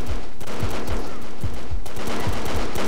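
Rapid automatic gunfire from the Brick Force shooter game rattles loud and close in quick repeated bursts, the shots thumping steadily with barely a pause.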